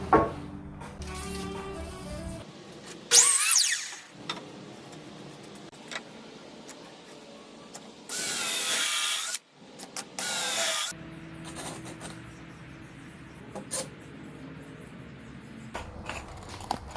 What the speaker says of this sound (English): Here I'm just rounding over all the sharp edges before I add the support pieces under this table